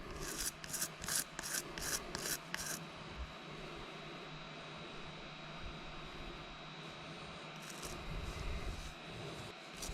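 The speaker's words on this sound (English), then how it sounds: "I'm actually going to give the frag plug a little scrub here" A coral frag plug is brushed by hand in quick rasping strokes, a burst of about six short scrubs, then quiet hum, then a few more scrubbing strokes near the end, close and crisp.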